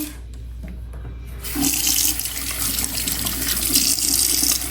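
A running tap washes a vintage 1960 Ponytail Barbie doll at a sink, starting as a soft low flow and then swelling into a loud, steady splashing rush of water that continues to the end.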